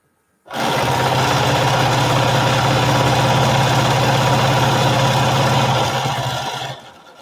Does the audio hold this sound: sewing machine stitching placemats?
yes